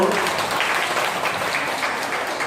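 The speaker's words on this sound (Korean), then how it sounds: "박수 부탁해요." Applause from a congregation at a children's Catholic Mass in a church, a steady wash of clapping that stays even and fairly loud from start to finish.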